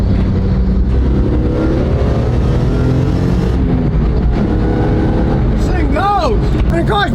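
BMW car accelerating hard from a stop while rattling, a loud close engine roar climbing in pitch with cabin rattle throughout and rising whine toward the end, a voice talking over it.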